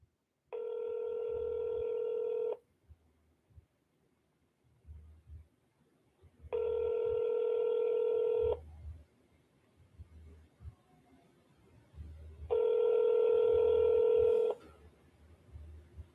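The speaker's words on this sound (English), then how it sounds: "hitting up another buyer here, Flipper, Elsa" Touch-tone telephone dialing a buyer's number, heard as three separate long, steady tones with pauses between them and faint background noise in the gaps.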